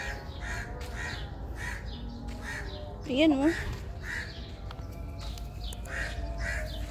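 Several crows caw repeatedly in the distance, harsh calls spaced throughout, while a person speaks briefly nearby.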